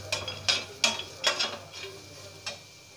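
Dry masala spices stirred with a small spoon in a pan while chicken masala is being made: a few light, separate scraping strokes with faint crackle between them, close by and fairly quiet, with no talking.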